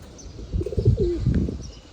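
Free-flying pigeons give a short burst of cooing and chirping calls, close and moderately loud, lasting about a second over a low background rumble.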